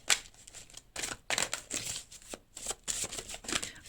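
Tarot cards shuffled by hand in quick, papery riffling bursts with short pauses between them, close and fairly loud, and a single card slipping loose from the deck.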